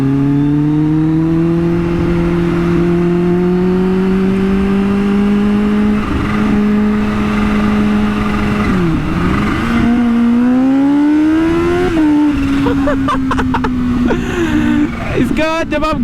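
A Kawasaki Ninja H2 motorcycle rides at night along Canal Road in Lahore, its loud, close engine droning steadily with the pitch climbing and dipping and a gear change near the end, under rushing wind.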